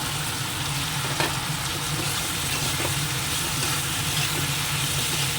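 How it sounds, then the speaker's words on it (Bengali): Chicken pieces fry in a pan with a loud, dense, continuous sizzle and crackle, close up and steady throughout, with no talk. "এবার চিকেনগুলো দিয়ে দিচ্ছি"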